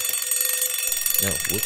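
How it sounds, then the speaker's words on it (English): An alarm clock rings with a steady high repeating tone through the whole moment, while someone speaks briefly over it near the end. "that's my alarm."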